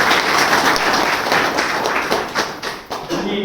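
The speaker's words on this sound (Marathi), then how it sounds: "सर्वप्रथम आपण टाळ्या वाजवून आपण त्याचं स्वागत करूया." A gathered audience of villagers and youth claps steadily to welcome an honoured guest at a felicitation event, dense continuous applause with some sharper individual claps toward the end, fairly close and loud.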